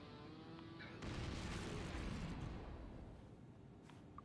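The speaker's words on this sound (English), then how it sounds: "The fucking explosion" A sudden explosion from the video game Alan Wake II bursts in with a deep, rumbling blast that sustains for a couple of seconds and then slowly fades into quieter game ambience.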